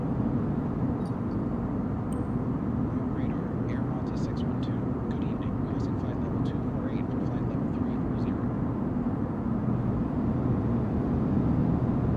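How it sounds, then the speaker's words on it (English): An Airbus A320 airliner on a Malta to Rome flight, heard from outside, gives a constant loud broadband engine roar throughout, with faint voices talking in the background. "Are you talking about the sound of the airplane on the outside?"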